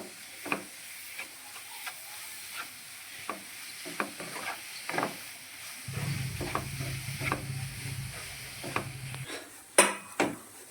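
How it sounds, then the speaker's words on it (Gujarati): A thick semolina barfi mixture with ghee is stirred steadily in a pan, the spoon scraping in repeated strokes, with faint sizzling and a brief low hum midway. "સતત હલાવતા રહીશું."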